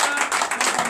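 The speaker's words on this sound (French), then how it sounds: "que je vous demande d'applaudir très fort" A church congregation at a Sunday service applauds, a dense, steady wash of many hands clapping through a short moment.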